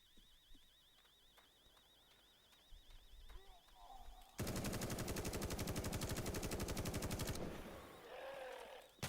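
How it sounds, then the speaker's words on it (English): A facility alarm in The Day Before video game blares loudly and steadily for about three seconds in the middle, with a faint warbling tone and scattered game noises before and after. "That alarm's going to"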